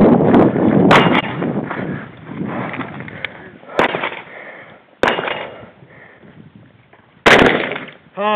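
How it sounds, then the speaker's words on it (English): Rifle shots ring against a steel plate rack at a shooting match stage, several sharp loud cracks spaced a second or two apart with noisy handling and movement between them. "Rifle plate rack."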